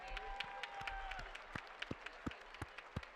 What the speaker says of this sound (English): How about a nice round of applause for the two boxers?